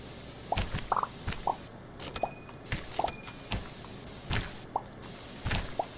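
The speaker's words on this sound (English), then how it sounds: "Let's try the spray can." Spray can tool in the video game Antipaint, giving repeated short hissing sprays at irregular intervals, mixed with small wet dripping and squishing blips, quiet and free of talk.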